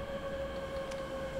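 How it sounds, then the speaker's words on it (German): An oncoming train on a container run toward Singen in Train Simulator makes a steady rumbling roar under a sustained tonal hum. A short hiss cuts in midway, with no voices. "Ah, hier kommt der Zug, Gegenzug"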